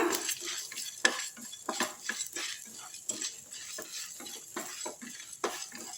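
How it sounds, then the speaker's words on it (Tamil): Rice dry-roasting in an oil-free kadai, with quiet scraping and stirring strokes and light grains rattling against the metal in an uneven rhythm, close up and alone. "இப்போ ஆயில் ஊற்றாமல் வெறும் கடாயில் இதை போட்டுக்கலாம். லேசாக வறுத்துடலாம்."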